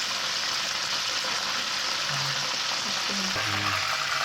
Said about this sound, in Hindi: इस तरीके से मैं सारे कबाब जो है वो फ्राई कर लेती हूँ